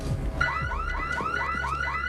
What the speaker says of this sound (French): L'alarme devrait se déclencher, disons à peu près, maintenant.